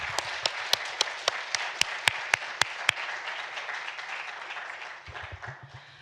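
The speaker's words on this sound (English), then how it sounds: "Can we just give her another round of applause" Conference audience applauding at an evening panel session, a dense wash of clapping with a few sharp, close individual claps standing out in the first half, thinning and fading toward the end.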